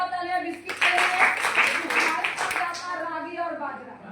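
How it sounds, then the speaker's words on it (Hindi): A seated audience claps together at a health-product seminar in India, a dense patter that swells and holds for a few seconds while a presenter's voice carries over it. "एक जोड़ा तालियां बिस्किट के लिए।"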